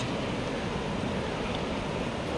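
Strong river current rushes beneath the old British-era Jokadia bridge in Jajpur, Odisha, a continuous broadband roar of water and wind, loud and steady with no pauses.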